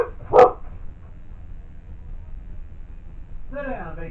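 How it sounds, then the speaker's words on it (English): A single loud dog bark near the start, short and close, followed by quieter room noise and a brief voice near the end. "my dog is barking at something"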